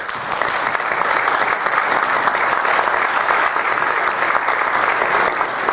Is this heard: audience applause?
yes